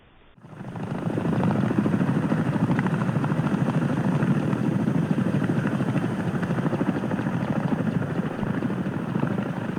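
A Chinook helicopter passes overhead on a cold night, its deep rotor thump building quickly from silence into a steady, loud, pulsing drone that lingers without any talk.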